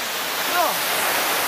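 Rushing waterfall in a tropical pool full of fish, a loud, even roar of falling water throughout, with a faint brief voice-like tone in the middle.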